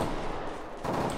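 Rapid gunfire in Counter-Strike: a dense, continuous rattle of shots with a louder burst near the end, close and harsh, with no voices over it.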